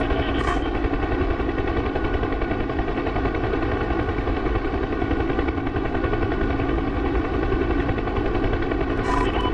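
A helicopter in the DCS flight combat simulator gives a loud, constant, rapid rotor chop with a heavy engine drone, steady throughout and close to the listener, with no talking.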